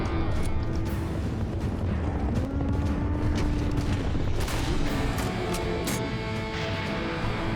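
A cannon fires in the shooter game Serious Sam 3: BFE, dense booming blasts and crackling impacts in rapid succession over a continuous loud din of combat.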